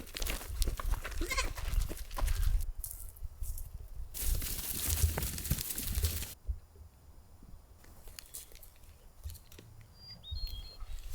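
Goats bleat several times amid outdoor farm noise, with loud bursts clustered early and fainter calls later; no talking.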